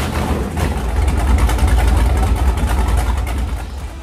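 Ford Godzilla V8 engine running, a loud, steady low rumble that holds at an even level throughout with a dense, rough texture and no talk.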